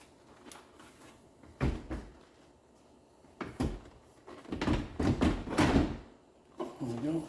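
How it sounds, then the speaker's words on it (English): A GE convection oven door is pulled down and lifted out, giving several hollow metal clunks and rattles in quick groups, with a person talking between the knocks. "Pull this back all the way down, and we should be able to lift the whole door,"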